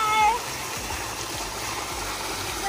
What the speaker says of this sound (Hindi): ये सारा पानी खेतों में जा रहा है